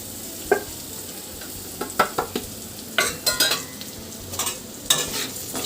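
Meal maker pulao is stirred in a pan after chilli powder, mutton masala and cumin powder go in, giving several sharp scraping strokes over a low sizzle with no voices.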